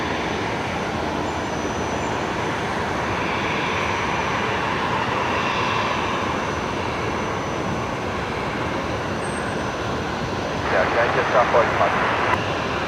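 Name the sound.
airliner departure noise at Brisbane Airport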